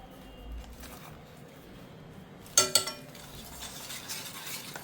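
Amla gooseberry powder mixture being stirred in a bowl for a homemade hair pack, with soft scraping and a few sharp clinks of a spoon against the bowl midway, close and fairly quiet.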